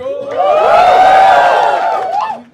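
A studio audience on a comedy talent show cheers and whoops for a Punjabi music artist, a loud sustained crowd roar of shouting voices that swells and then fades out.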